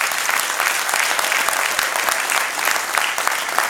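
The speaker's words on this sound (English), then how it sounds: "So please give her a round of applause." Audience applause after a film Q&A at Samsung 837, dense continuous clapping from a crowd that holds steady throughout the short stretch.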